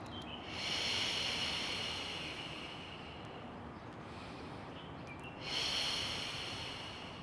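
Slow, deep breaths during a foam roller workout, two long airy inhales or exhales close to the microphone with a quiet pause between them.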